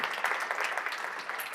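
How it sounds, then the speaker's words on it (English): Audience applause at a magician's talk and performance, a brief steady rush of many hands clapping lasting just over a second and a half, moderately loud with no voices over it. "Let's give her a round of applause."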